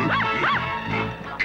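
Several dogs bark in a children's cartoon scene, two rising, yelping barks close together followed by fainter yips and a whimper, loud and close, with no talking over them.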